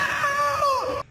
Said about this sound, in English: or you might have seen her from her TikToks where she yells